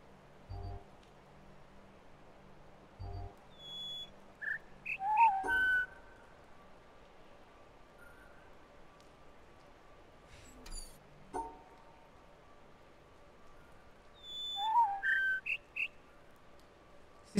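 A bird in the video game The Witness gives short, clear whistled chirps in two brief clusters, separated by long quiet stretches with faint game tones and soft background noise.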